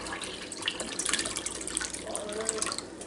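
Tea pours steadily into a pitcher with a splashing, trickling wash over a few seconds, close by and fairly soft.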